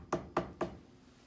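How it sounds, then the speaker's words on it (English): Three sharp knocks on a wooden cottage door, evenly spaced and close by, alone with no talking. "So she knocked on the door."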